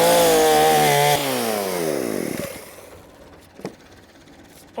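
A chainsaw cutting firewood, its blade dulled after hitting a screw, roars loudly and then winds down in pitch as the engine slows, leaving a few faint knocks and clatters.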